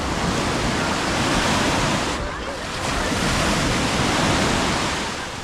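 Mediterranean Sea waves washing onto the shore, a loud broad roar of surf with wind buffeting the microphone, swelling and easing in gentle surges, no voices.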